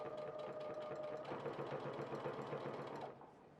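A sewing machine stitches fabric bunting binding along a left edge, a steady close mechanical whirr that runs continuously and then eases off near the end, with no talk.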